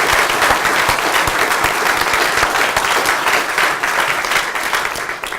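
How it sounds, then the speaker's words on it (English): A roomful of delegates at a veterinary summit claps for a newly qualified vet surgeon, a loud, dense burst of applause that holds steady for several seconds and then begins to thin slightly toward the end. "which I think maybe deserves a round of applause"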